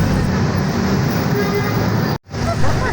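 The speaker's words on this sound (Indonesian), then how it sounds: "Suara mesin yang menderu perlahan bercampur dengan sesekali bunyi klakson yang tak sabar" Stalled traffic of cars and motorbikes fills the scene with a steady, dense roar of idling and slowly revving engines and an occasional impatient horn, continuous and close apart from a brief drop near the end.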